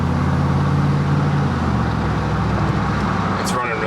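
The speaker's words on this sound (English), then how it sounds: "But the motor sounds really healthy." The V8 engine of a 2005 Chevy Tahoe with a recently fixed misfire idles steadily with a low, even hum, and a person speaks over it.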